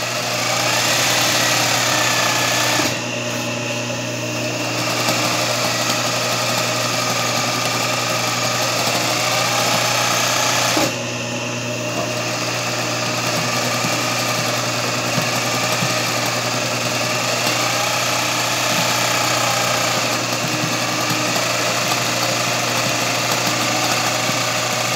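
Sewing machine stitching an open hem, a steady loud mechanical whir running continuously with two brief drops in intensity.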